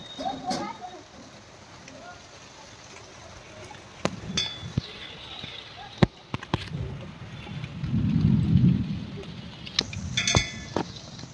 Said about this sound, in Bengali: ঝড় জল বৃষ্টি আরম্ভ হয়ে গেছে।